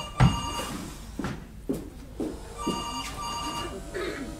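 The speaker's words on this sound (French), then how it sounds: "Oh non, le téléphone maintenant!" Telephone ringing indoors in a home, a few repeated ring bursts at moderate volume with a voice speaking briefly before it.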